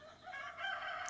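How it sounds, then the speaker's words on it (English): Rooster crowing in the distance on a dark, gloomy early morning near a Wood-Mizer sawmill, a sustained, moderately faint call rising and holding over about a second, with no talk. "Those roosters will probably give that away in the background."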